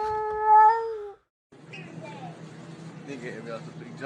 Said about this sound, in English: these cats are beefing at 7 a.m.